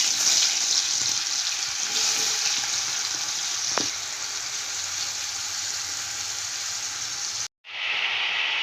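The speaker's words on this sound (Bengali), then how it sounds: "এদিকে মিষ্টি কুমড়োটা আমি ভাজবো, নুন হলুদ মাখিয়ে নিয়েছি। এবারে মিষ্টি কুমড়োটা ভেজে নেব।" Pumpkin pieces coated in salt and turmeric fry in hot oil with a steady, close hissing sizzle that stays even throughout, then drops out abruptly near the end before resuming.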